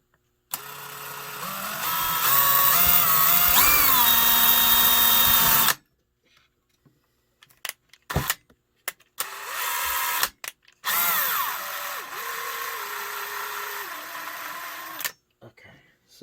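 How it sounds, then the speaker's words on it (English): A power drill runs in a long steady burst with pitch dips as it bites, then stops amid clicks and handling noises before drilling again. "so we're just going to drill it"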